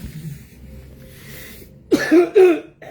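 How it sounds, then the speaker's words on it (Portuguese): Two or three sharp coughs burst out near the end after a quiet stretch, close and loud against faint background noise. "vai dar tosse agora"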